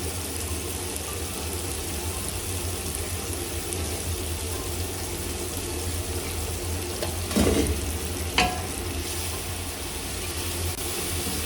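Masala fries in a pot for yakhni rice, a steady dense sizzle and hiss that holds evenly throughout, with a couple of brief stirring clinks near the end.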